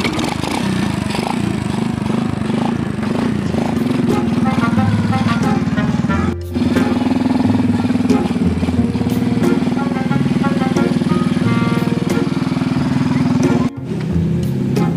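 A motorcycle engine drones steadily up close, with a constant low hum and a couple of brief dips, while voices talk over it.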